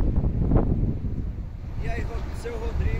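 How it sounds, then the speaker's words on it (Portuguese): Strong wind buffets the microphone with a steady low rumble at a high lookout over the São Francisco River, while someone speaks over it. "Agora tá um vento aqui, viu? É um vento, cuidado, pessoal."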